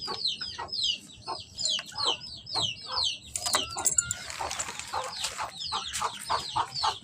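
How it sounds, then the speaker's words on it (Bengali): Chickens at a house where pigeons are also kept cluck and chatter close by in quick, repeated bursts, with a brief flurry of rustling or flapping midway. "এই বাসায় মুরগি আছে, কবুতর আছে"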